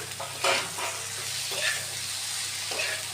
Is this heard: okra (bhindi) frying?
yes